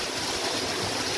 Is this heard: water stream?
yes